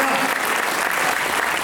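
Dense, loud applause from the audience at an all-India poetry gathering (kavi sammelan) in Khariar, continuous clapping filling the room close to the microphone.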